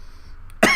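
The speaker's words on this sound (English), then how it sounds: "Give me a minute to cough." A single short, sharp cough bursts out at the very end after a near-silent pause, close and fairly loud.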